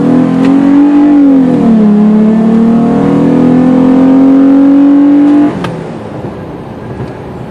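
Exhaust of a 2021 Ford Raptor with a V6 revs loudly and steadily for about five seconds, pitch dipping and climbing, then settles into a quieter, rougher idle rumble.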